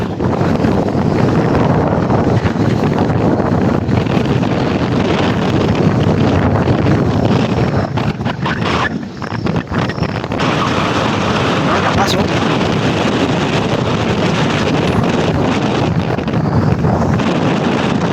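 Strong typhoon wind over Manila Bay buffets the microphone in a loud, continuous roar, easing briefly midway before surging back.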